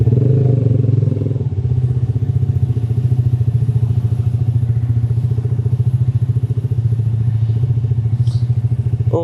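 A motorcycle's engine runs steadily and loud, close by, a strong low throbbing pulse that holds throughout with a slight shift near the start and faint clatter over it.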